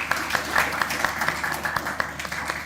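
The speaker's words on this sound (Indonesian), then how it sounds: "Kita beri tepuk tangannya" Applause from an audience at a museum outreach event held at a school, steady dense clapping throughout with scattered sharper claps, moderately loud and continuous.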